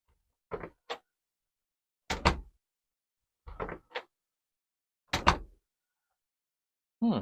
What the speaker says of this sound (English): Door into the room.